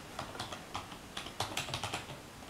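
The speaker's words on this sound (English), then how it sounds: "Now I write" Quick typing on a computer keyboard, a rapid irregular run of sharp key clicks heard close and alone, speeding up toward the end.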